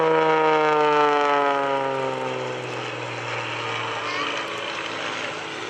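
A 1,500-pound aerobatic propeller airplane with a steel tube fuselage and carbon fiber wing dives past at an airshow, its engine note falling steadily in pitch as it passes close and loud, then settling into a sustained drone.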